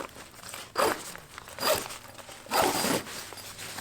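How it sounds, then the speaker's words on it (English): A suitcase zipper is pulled open in three or four distinct bursts during a luggage search for contraband in a behavioral healthcare setting. Each stroke rasps clearly and close, and quieter handling sounds fall between them. "All suitcases have a zipper in the bottom to open up."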